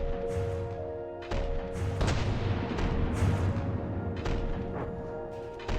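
Turret gunfire in From the Depths: repeated heavy cannon booms at irregular intervals over a steady mechanical hum, each shot sharp and loud.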